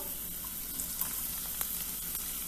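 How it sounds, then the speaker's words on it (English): Onions and capsicum cook in extra virgin olive oil in a pan for a bean and pasta vegetable soup, making a steady, moderate hiss with a few faint ticks from the pan. "Add in the onions and the capsicum"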